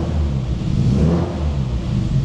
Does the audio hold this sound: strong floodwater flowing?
no